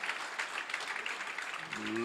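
Spectators applaud a winning shot at an under-23 world championship squash semi-final, a steady patter of clapping with a commentator talking over it.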